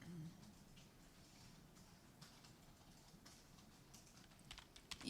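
Rapid, soft typing on a computer keyboard patters steadily in the background, close but fairly quiet, with a small burst of louder clicks near the end.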